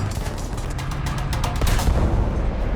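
Tank cannons thud and crack in a World War tank battle game, with several sharp shots and booming reports over a steady engine rumble, loudest near the middle of the stretch.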